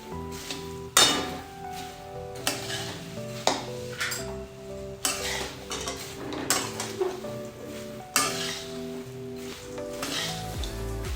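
A spoon scrapes and clinks against a pan while puffed sorghum and puffed rice are stirred together for spicy chevdo, with a faint sizzle under repeated sharp metallic knocks and no talking.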